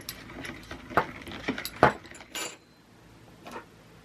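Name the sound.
stirring apple cider vinegar to mix it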